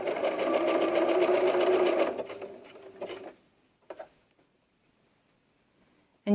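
A sewing machine zigzag-stitches elastic onto a doll diaper, running in a steady, close, rapid whir for about two seconds before stopping, followed by a few soft clicks and handling taps.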